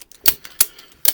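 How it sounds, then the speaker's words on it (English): A ratchet turns on a GSXR 750 K9 motorcycle fork during a fork seal replacement, giving three sharp, close clicks spaced unevenly over about a second. "ratchet down, trying to keep it straight, or as straight as possible"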